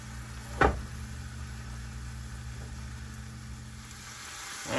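Chili for chili cheese fries sizzling in a pan, a steady low hiss with a brief clatter from a stir early on, close and moderately quiet, no voices.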